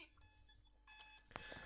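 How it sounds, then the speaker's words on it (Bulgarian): An alarm clock rings faintly in a room, a thin electronic tone that pulses and then grows stronger with a sharp click near the end, with no voices. "Мъкни, бе, аларма!"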